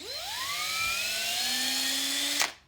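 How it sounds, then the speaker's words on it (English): A power drill spins up with a rising whine while pre-drilling a small piece of scrap wood, holds a steady high tone for about two seconds, then stops abruptly. The drilling is close and loud, with no talking. "And this is so we don't split the wood. We're pre-drilling."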